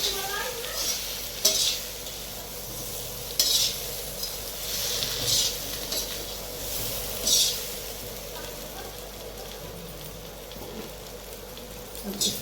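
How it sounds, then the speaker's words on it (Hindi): A spoon stirs spiced food with garam masala in a pan, giving soft scraping and periodic clinks against the metal over a low, faint sizzle, close and unhurried. "और इसको अच्छे से चला लेंगे।"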